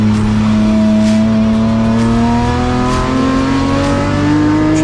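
BMW race cars in a Class E circuit race roar past on the racetrack, loud engines rising in pitch as they accelerate through gears, with a brief hint of tire squeal and no talk.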